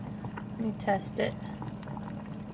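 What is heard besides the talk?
potatoes boiling in a pot of water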